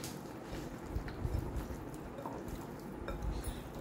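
Lemon juice is poured over hamour fish being readied for frying, a soft, low liquid trickle and faint drips against steady kitchen background noise, with no talking.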